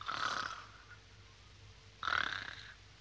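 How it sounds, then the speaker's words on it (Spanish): A sleeping boy in a cartoon snores twice, each a rough, nasal rattle about half a second long, spaced about two seconds apart over a faint background. "¡Cómo ronca!"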